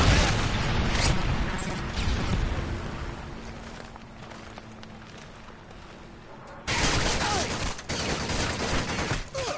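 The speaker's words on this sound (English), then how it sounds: "Predator missile ready for launch. Predator missile inbound." A Predator missile strike in Modern Warfare 3 brings dense, rumbling gunfire and explosive blasts that ease off in the middle, then a sudden loud burst of crashing impact noise near the end.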